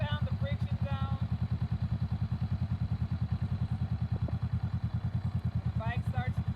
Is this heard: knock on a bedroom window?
no